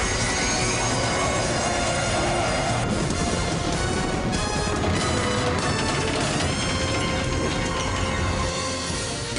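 Animated rocket thrusters firing to slow a train: a loud, continuous roaring blast with mechanical rattling and clanking, sustained at full intensity for the whole stretch.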